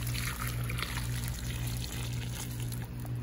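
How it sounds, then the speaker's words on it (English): Water pours steadily into a bog garden, a continuous trickling wash over a low constant hum, with no pauses. "Gonna go ahead and pour the last of this in here."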